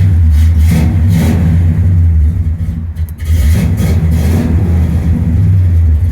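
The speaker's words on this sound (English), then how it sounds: "we're cold starting with the battery box" A 1968 Pontiac GTO engine cranks from cold on a battery box and catches, then revs loudly with a deep steady rumble, briefly dipping before roaring up again; no voices.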